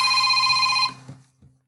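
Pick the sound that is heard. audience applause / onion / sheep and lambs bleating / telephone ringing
telephone ringing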